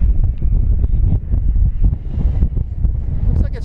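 Strong gusting wind buffeting the microphone at an RC jet flying field, loud low rumbling bursts that rise and fall continuously, with a brief faint whine near the end.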